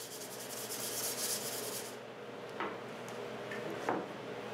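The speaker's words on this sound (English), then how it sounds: "I lightly sanded the whole box with 320 grit sandpaper" A wooden dovetail keepsake box is sanded lightly by hand with 320 grit sandpaper, a soft rubbing hiss for the first two seconds, then a few faint scrapes and taps in a quiet room.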